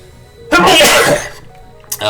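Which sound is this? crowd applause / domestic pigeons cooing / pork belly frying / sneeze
sneeze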